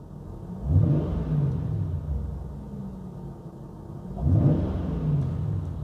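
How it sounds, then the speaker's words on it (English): Jaguar XK engine idling, then the throttle is blipped twice, each giving a short rising rev that settles back to a low idle rumble; no one speaks. "what we should see is a kick up when I blip the throttle"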